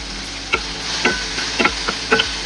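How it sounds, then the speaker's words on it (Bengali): Ginger, garlic and onion hit a pan with five-spice seeds and sizzle loudly, while a spatula scrapes through them in about six quick, uneven stirring strokes up close. "আর এই আদা রসুন পেঁয়াজও দিয়ে দিচ্ছি, সব একসাথে দিয়ে দিচ্ছি।"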